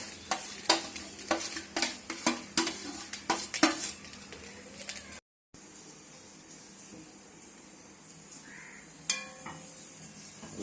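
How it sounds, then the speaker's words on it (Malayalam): Grated coconut is dry-roasted in a pan without oil, a spoon scraping and stirring in quick repeated strokes over a soft sizzle, then a brief pause and a quieter steady hiss with an occasional clink. "അത് വറുത്തിട്ട് പൊരിച്ചെടുക്കണം തേങ്ങ ഇട്ടുണ്ട്"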